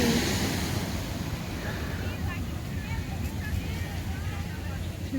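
Ocean waves wash onto a sunny California beach in a continuous rushing roar, with wind buffeting the microphone and no distinct individual breakers standing out.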